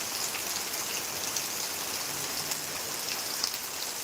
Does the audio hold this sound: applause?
no